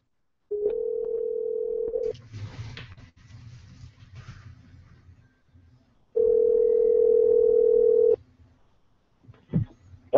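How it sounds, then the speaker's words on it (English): Two steady telephone dial tones, about 1.5 and 2 seconds long, ring out loud and clear over a phone line while a call is being placed, with faint line noise and clicks between them. "now I'm going to dial up Phillip Kitts"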